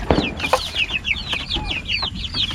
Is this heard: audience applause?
no